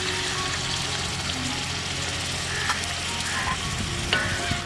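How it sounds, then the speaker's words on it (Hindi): Medium-sized chicken pieces, about 1.25 kg, fry in a pot for Kabuli pulao, giving a steady, dense sizzle with a few soft clinks of stirring near the end. "कलर तब्दील होने तक इसको इसके अंदर फ्राई करना है गोश्त को।"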